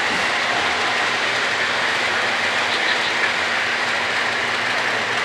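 Model railroad trains run on a Reading Lines layout, giving a steady, continuous rolling rumble and hiss with no break and no voices.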